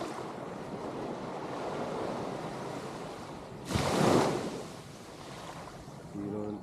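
Ocean waves rolling onto a beach at high tide, a steady wash of surf with one louder breaking wave midway, with wind noise over the microphone and a brief voice near the end.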